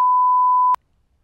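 A censor bleep: one loud, pure steady tone lasting under a second that cuts off abruptly into near silence.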